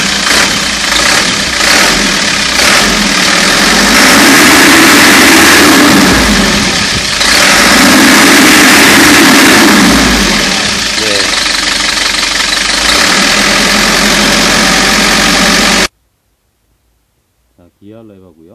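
A 2001 Kia Combi 25-seat bus with a B4AL diesel engine runs steadily at idle with the engine room open, a loud, close, rough clatter with slight swells, ending abruptly before a brief voice.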